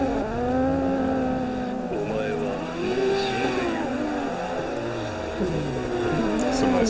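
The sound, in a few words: cars drifting in tandem in video game Assetto Corsa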